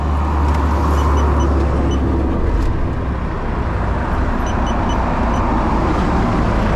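Vehicles pulling in and parking for the night at the Bang Phra checkpoint, heard as a steady, close low engine rumble with broadband road noise throughout and no talking.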